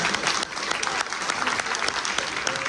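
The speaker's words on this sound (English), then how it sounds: "Can we give our panelists a round of applause?" Summit audience gives panelists a round of applause, a steady wash of many hands clapping, close and even, with faint voices mixed in.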